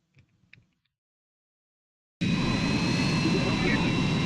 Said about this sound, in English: He's now flying an F-22.